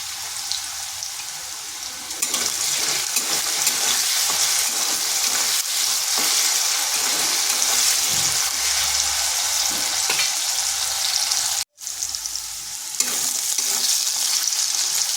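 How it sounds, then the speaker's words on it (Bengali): Potatoes frying in oil while being stirred in a pan: a loud, steady sizzle with scraping strokes, a brief break near the end, then the frying resumes. "আলুগুলো হালকা ভাজা হয়ে গেছে"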